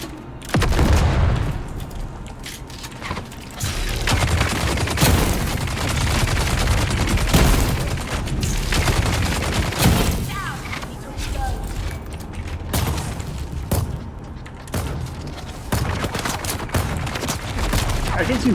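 Sniper gunfire in the video game Dune Awakening during solo PvP in a lab, heavy shots and bursts recurring throughout with booming impacts, loud and close, while someone talks over parts of the action.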